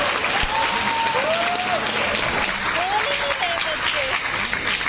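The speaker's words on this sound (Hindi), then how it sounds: "एक बार प्लीज अपने लिए जोरदार ताली बजा दीजिए प्लीज।" A crowd of kids and parents at a farewell achievers' meet in Delhi applauds loudly, a dense, sustained roar of clapping lasting the whole stretch, with a voice speaking over it.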